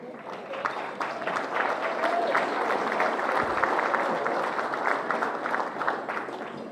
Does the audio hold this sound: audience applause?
yes